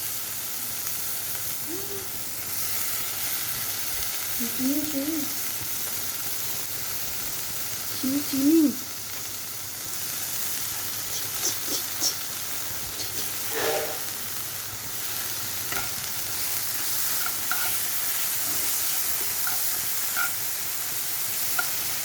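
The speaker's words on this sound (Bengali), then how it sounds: "এবার আমার এই রসুন পেঁয়াজ আদাটা ভাজা হয়ে গেছে। এবার দেবো টমেটো পিউরি।" Tomato puree fries with garlic, onion and ginger in a pan, a soft steady hiss and sizzle throughout with a few brief stirring sounds and faint bits of voice.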